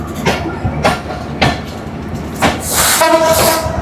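Banglabandha Express train running, heard from inside an AC cabin: a steady rumble of wheels with rhythmic clacking bursts roughly every half second to second, then a louder rush near the end with a tonal whine.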